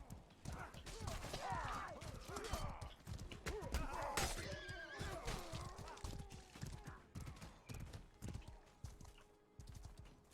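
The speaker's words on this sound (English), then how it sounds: "Why is there just a random horse just riding around with no rider?" A riderless horse in the Medieval War Simulator video game trots with a rapid clip-clop of hooves and lets out a neigh, amid clashing battle noise and intermittent talking from a player.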